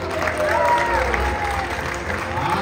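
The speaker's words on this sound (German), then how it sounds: "hier hört sich denn dann einer Applaus der Stufe 2 an." Audience applause at a show in Movie Park Germany, a dense, steady wash of clapping from a crowd filling the whole stretch at moderate loudness.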